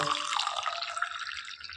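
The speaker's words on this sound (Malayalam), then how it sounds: "തിളച്ച വെള്ളം ഒഴിക്കുക ചായ റെഡി" Boiling water pours steadily and close up into a glass holding sugar and tea powder, a continuous splashing rush lasting about two seconds.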